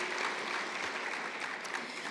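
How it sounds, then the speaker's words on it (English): Audience applause for sponsors and underwriters at a charity event: a dense, even burst of clapping from a crowd, fairly distant and quiet, sustained without a break. "Let's give all our sponsors and underwriters a round of applause."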